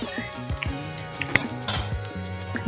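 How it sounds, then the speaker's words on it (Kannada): Two dried Byadgi chillies frying in a little oil in a pan, with close clinks and scrapes of a utensil against the metal and a faint sizzle beneath, ending in a sharp knock. "2 ಒಣ ಮೆಣಸಿನ್ಕಾಯಿ, ಬ್ಯಾಡಗಿ ಮೆಣಸಿನ್ಕಾಯಿ ಹಾಕಿ ಇದನ್ನು ಕೂಡ ಸ್ವಲ್ಪ ಫ್ರೈ ಮಾಡ್ತಾ ಇದ್ದೀನಿ"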